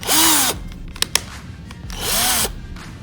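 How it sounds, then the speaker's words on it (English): Electric drill fitted with a small bit, spinning up in two separate bursts of about half a second each with a rising then falling whine, plus a couple of sharp clicks between them. "And then you are all set to use your drill."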